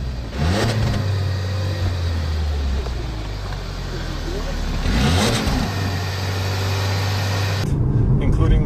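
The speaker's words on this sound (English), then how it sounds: "way that the engine sounds, it's a little bit quiet. Yep, that's floored." A 2015 Lincoln MKC's engine rises under full throttle, a steady, fairly quiet cabin drone with a rev climb midway, heard from inside the car while people talk over it.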